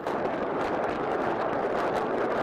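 Grad rocket launcher firing during military training, a continuous dense roar of rocket launches and explosions, loud and unbroken throughout.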